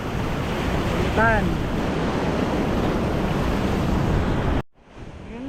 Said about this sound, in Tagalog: Galit na yung dagat. Biglang nagpaano na malalaking alon.